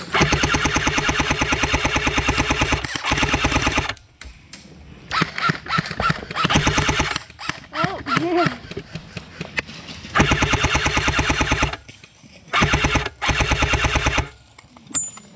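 An airsoft M1919 light machine gun fires long rapid bursts during a World War Two-themed skirmish, loud and close, with sharp rattling trains broken by short pauses, faint shuffling and distant voices between bursts.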